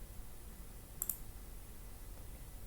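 Quiet click of a computer mouse on a Windows PC, a single quick double-tick in an otherwise near-silent room.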